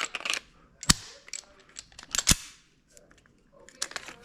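Sharp metallic clicks and snaps come from loading rounds into a Sig Sauer P365 pistol magazine, several close, crisp impacts at uneven intervals with brief quieter handling sounds between.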